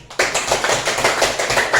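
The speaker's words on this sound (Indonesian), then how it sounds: "Kita beri tepuk tangan dulu untuk kelompok 2 ya" Students in a classroom clap for a group, a short burst of fairly close, rhythmic, roughly synchronized hand claps repeating evenly for a couple of seconds.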